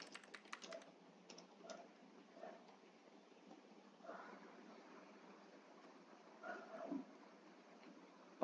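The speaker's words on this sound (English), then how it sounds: "Let me type." Scattered keystrokes on a computer keyboard, soft and faint, arriving in a few small clusters with pauses between them, with no talking.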